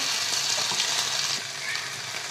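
Mustard seeds, asafoetida and turmeric tempering in a little hot oil give a steady, close crackling sizzle that fades slightly partway through.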